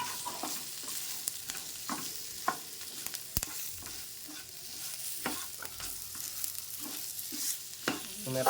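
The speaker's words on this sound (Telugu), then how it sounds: "2 స్పూన్ల జీలకర్ర వేసుకుంటున్నా." Cumin seeds sizzling and popping in hot oil for tomato chutney, a steady close crackle dotted with sharp spatters and occasional spoon stirs, no voices.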